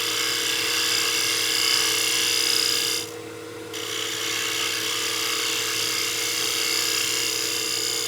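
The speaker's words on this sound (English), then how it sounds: "I'm gonna start shear scraping with my bowl gouge to refine the surface." Bowl gouge shear scraping a wooden block head spinning on a lathe: a continuous hissing rasp over the motor's hum, briefly dropping away for under a second midway before resuming.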